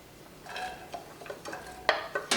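Chopped onions and celery are stirred in a soup pot with a paddle, giving scattered scraping and clacking strokes over a faint sizzle, close by and without talk.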